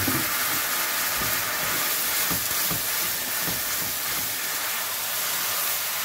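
Wine poured into a pan of hot rendered fat with sauce gives a steady, close broadband sizzle and hiss that runs unbroken through the whole stretch, with no voices.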